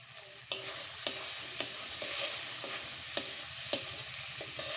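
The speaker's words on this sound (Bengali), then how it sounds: "আমার মশলাটা পুরো কষে গেছে" Spice paste with chili powder and salt frying and being stirred in a pan for a village-style Bengali fish curry with taro, a steady sizzle broken by regular sharp scrapes of the spoon, close and alone.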